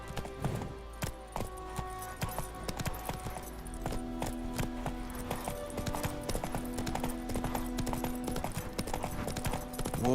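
Roach, the horse in The Witcher 3, gallops with steady, loud clip-clop hoofbeats throughout, set against a continuous game music bed with faint talk.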